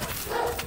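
A dog gives a single short bark, close and fairly loud, with nothing else heard around it.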